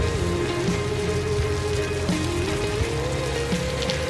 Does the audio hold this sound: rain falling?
yes